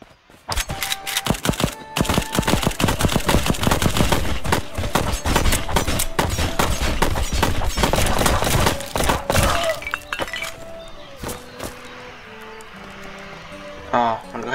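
Rapid bursts of gunfire in the game Black Skylands crack and rattle for several seconds, dense and loud, then thin out to scattered shots and softer game sounds.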